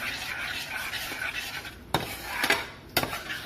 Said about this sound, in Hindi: आप गुड़ को लगातार चलाएंगे